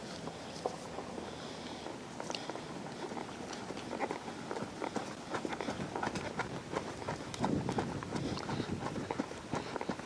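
Hooves of a horse being ridden bridleless, a steady mix of soft clip-clop steps and scuffs on the ground running throughout, at moderate distance with faint background noise and no clear talk.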